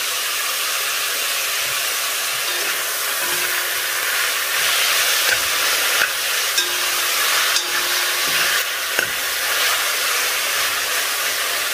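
Minced meat fries in a pan with just a little oil, giving a steady, close sizzling hiss with occasional soft stirring scrapes and small pops throughout.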